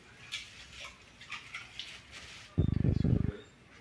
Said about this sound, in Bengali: চলো মাংসটা ঢেলে ফেলি।